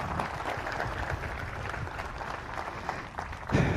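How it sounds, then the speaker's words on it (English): Audience applause at a Marine Corps retirement ceremony at Camp Pendleton, honoring the 3rd Marine Aircraft Wing Band, a steady dense clapping wash held at even loudness, swelling slightly near the end. "Please give them a round of applause again."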